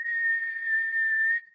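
One sustained, shrill whistle blast holds a single steady pitch for about one and a half seconds, loud and clean on its own, then cuts off abruptly.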